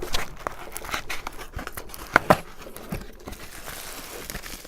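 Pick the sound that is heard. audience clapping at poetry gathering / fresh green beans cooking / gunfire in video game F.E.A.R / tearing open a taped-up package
tearing open a taped-up package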